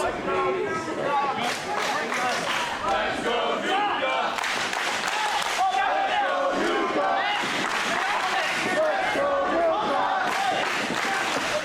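A wrestling crowd cheers loudly for the Great Nuka during a fast-paced tag match, a continuous roar of shouts, chants and scattered clapping. A commentator talks over the noise.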